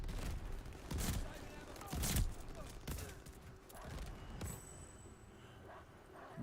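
Shotgun pistols fire in a video game with several sharp, separate blasts spaced about a second apart, heard quietly and followed by fainter reports and background noise.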